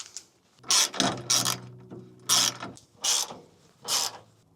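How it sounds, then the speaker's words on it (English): Quick bursts of ratchet clicking while bolts are run down on the radiator of a 1961 Buick LeSabre, five close, loud pulls separated by short pauses, with no talking. "we're just going to get the bolts that I went and hunted down, bolt this thing on"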